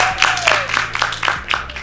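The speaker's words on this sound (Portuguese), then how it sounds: "Uma salva de palmas pro Dani, por favor." Audience applause in a lecture hall during a Portuguese-language motivational talk, a short burst of scattered hand claps under a steady low hum, moderately loud and close.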